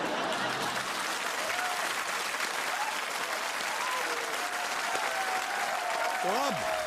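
A studio audience on the quiz show Kaun Banega Crorepati claps in sustained, dense applause throughout, loud and even from start to finish.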